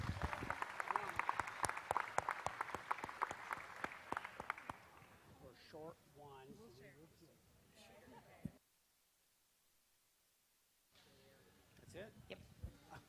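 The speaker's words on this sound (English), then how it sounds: "So please give them a big round of applause." A 4-H county fair dairy show audience claps for winning exhibitors: a burst of brisk, fairly close applause that fades after a few seconds into scattered talk, a brief silence, then more voices.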